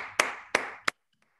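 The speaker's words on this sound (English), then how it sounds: "Let's welcome him, big round of applause. If your hands are free," Three sharp, separate claps ring out close to the microphone in an online meeting, each ending in a short decaying tail, then near silence.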